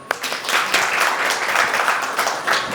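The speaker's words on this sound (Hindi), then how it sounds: "यहाँ पर तो सब है, तालियां बजा दो।" Devotees clapping together at a Hindi spiritual discourse on the Gita, a steady moderately loud patter of many hands filling the whole clip, with no talk over it.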